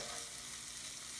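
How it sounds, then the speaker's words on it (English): Leek sizzles and fries with garlic, ginger and tobanjang in a hot pan, a continuous hissing crackle heard close and soft, with no talk. "And then you want to add the leek I cut earlier."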